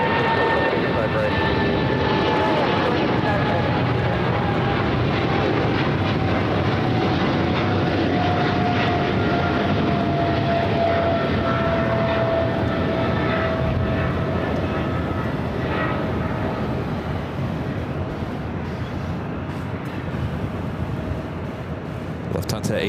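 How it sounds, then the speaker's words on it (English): A Lufthansa Airbus A380 moves at LAX with a loud, steady engine roar and a slowly falling whine that lasts throughout, close by and continuous, under faint radio chatter. "Lufthansa A380 on the move."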